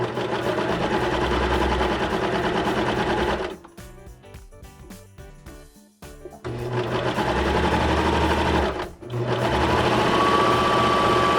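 A serger sewing machine stitching a seam on a frilly hem with tightly woven cord, running loud and fast in steady bursts with a brief pause partway through.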